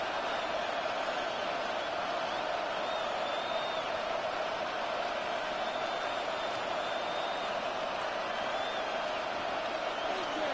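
A stadium crowd in the Madden 26 football video game roars steadily for the whole stretch, a dense and even wash of cheering with no break.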